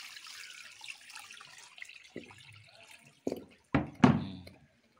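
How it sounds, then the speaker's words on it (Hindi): Water drains out of a pot of cooked rice in a Bihar village kitchen as a steady, soft rush. A few sharp knocks and clatters of the pot follow near the end. "इसमें पानी जो है इसमें से सब चला जाता है"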